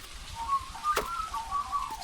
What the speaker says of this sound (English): Go away, birds.